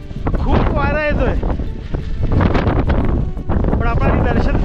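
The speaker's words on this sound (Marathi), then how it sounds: "येतोय खूप वारा येतोय" Strong wind buffets the microphone at Sajjangad hill fort in Satara, a continuous rumbling roar while a person talks over it.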